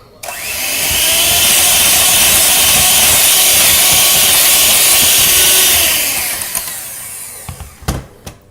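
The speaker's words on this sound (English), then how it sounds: "we're going to continue whisking it" Cream and sugar are whisked for whipped cream, producing a loud, steady whirring hiss that holds for about five seconds, then winds down into a few clatters and knocks.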